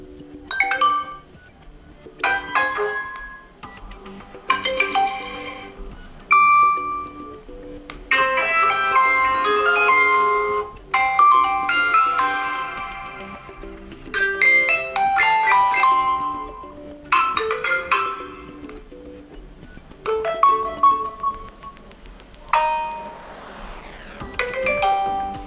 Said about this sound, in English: if you will click on sound, you'll be able to check all the sounds that you can apply here